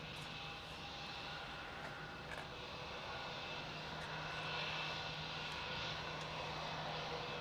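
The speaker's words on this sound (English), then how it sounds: "Jetstar 522, runway 16, clear for takeoff." Jetstar airliner on its takeoff roll at Melbourne Airport, a steady, fairly distant engine roar that holds evenly throughout with a faint rising whine and no talking.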